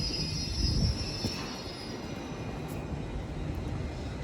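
London Underground Hammersmith and City Line train pulling into Paddington station, a distant steady rumble of wheels on rails with faint high squeal, heard alone under a wide station ambience.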